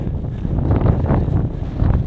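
Strong wind buffets the microphone on the summit of Cross Fell along the Pennine Way, a loud, continuous gusty roar and rumble with no voices.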